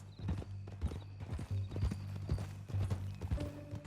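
In Red Dead Redemption 2, rapid clip-clop of horse hooves plays over a steady low drone, with a horse's whinny rising near the end.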